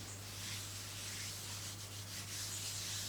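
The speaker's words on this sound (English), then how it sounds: "take your fingers and just rub around the outside there" Fingers rubbing fondant smooth around the edge of a cake board made to look like wood, a steady soft close-up friction that runs continuously with no talking.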